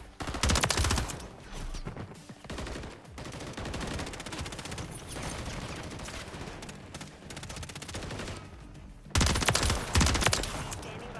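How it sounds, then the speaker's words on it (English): Rapid bursts of automatic gunfire from the video game Call of Duty MW3, loud and dense, with heavy volleys at the start and end and sustained shooting between. "I love when they start to shoot each other."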